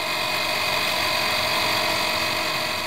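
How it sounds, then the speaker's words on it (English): A DBPOWER 12V portable electric air compressor inflating a car tire beside a running car engine, a loud steady droning hum with a constant mechanical buzz and no pauses. "So I'm going to try to pump this up."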